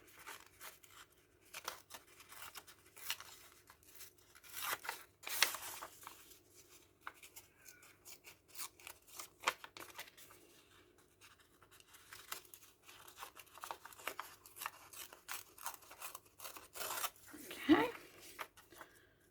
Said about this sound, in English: so I'll tear them down as well